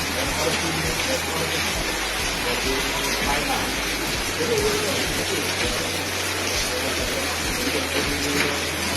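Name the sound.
rain falling during police sealing of a house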